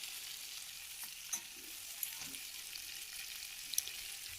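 Potatoes and peas fry in a pan with a faint, steady sizzle, broken by a few soft clicks of stirring. No one speaks.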